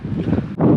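Wind gusts across the microphone at a wild campsite in a brief, close, rumbling blast that dips for a moment and then surges back strongly.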